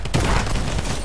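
A short, loud burst of rapid gunfire in a first-person shooter video game, close and harsh for about a second with no talk over it.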